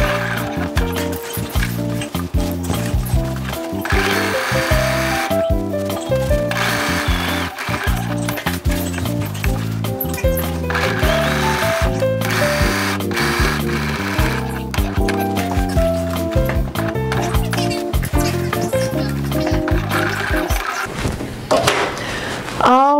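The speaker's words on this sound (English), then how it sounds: "And now I'm ready just to stitch around." A sewing machine stitches around a pocket on a pinafore in a steady rapid whirring rhythm, close and loud, with brief pauses where the fabric is turned.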